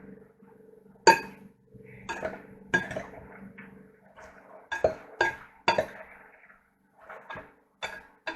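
Diced radish kkakdugi kimchi being mixed in a bowl, with scattered clinks and knocks of utensils against the dish and soft wet shuffling in between, close and fairly quiet.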